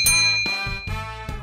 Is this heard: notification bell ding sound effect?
yes